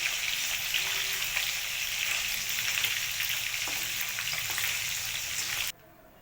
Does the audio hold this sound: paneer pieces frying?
yes